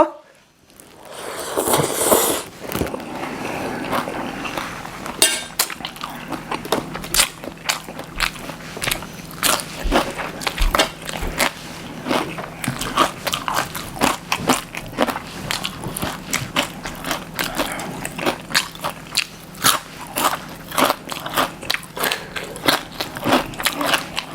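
Loud, close crunching bites of crispy fried chili eaten alongside rice noodles with curry chicken feet, with continuous chewing and crackling throughout and a voice talking briefly near the start.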